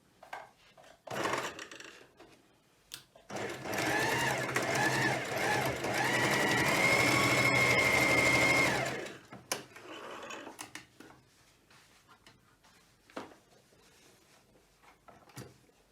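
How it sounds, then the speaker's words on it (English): A sewing machine stitches across the corners of upcycled jeans in one steady run of about five seconds, its motor humming with a rapid needle rhythm, bracketed by fabric handling, clicks and knocks before and after. "I'm going to just sew across the corners on the sewing machine."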